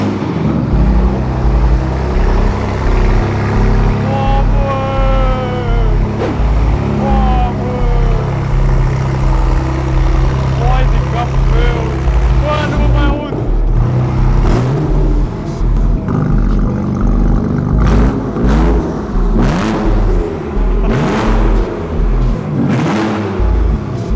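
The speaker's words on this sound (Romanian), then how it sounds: "Să vedem cum se aude M2-ul fără evacuare" BMW M2 CS engine revving hard with its exhaust removed, a loud, raw, continuous roar with rising and falling pitch sweeps through repeated revs, close by, alone throughout.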